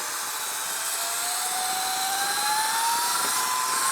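Sur Ron Light Bee electric bike with a KO F-Spec motor and controller accelerating, its electric whine rising steadily in pitch over strong wind rush, loud and continuous.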